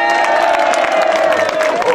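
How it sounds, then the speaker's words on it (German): Audience at a Roberto Blanco show in Greimerath claps and cheers loudly and steadily, with whoops and crowd voices over a sustained tonal backdrop. "Und noch ein Applaus für diese wunderbare Quartett"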